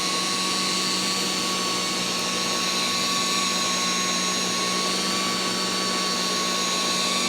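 An electric buffer polishing wet-sanded lacquer runs with a steady, loud high-pitched whine and a constant even drone, unbroken for the whole stretch, with no talking.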